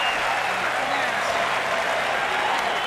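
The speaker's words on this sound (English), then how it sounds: "Listen to the crowd." Tennis crowd at the 1991 US Open, first-round match between Patrick McEnroe and Jimmy Connors, applauding and cheering: a steady, full wash of stadium noise that holds at an even level throughout.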